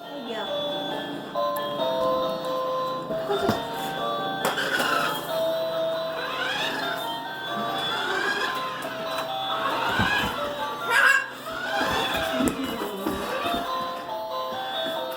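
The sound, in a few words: jingle music from an RC toy food truck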